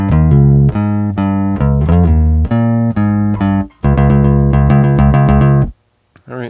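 An electric bass guitar plays a verse moving into a chorus, loud and close, with steady plucked sustained notes changing pitch in a repeating pattern, alone with no talking, ending in a brief pause and a few soft final notes.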